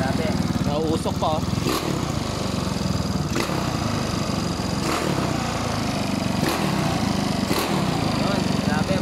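An over-compressed 200cc motorcycle engine with a stock head pops sharply at irregular intervals over a loud, rough running drone, heard up close.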